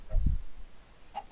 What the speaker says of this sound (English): there's a lot of chickens around here if I remember rightly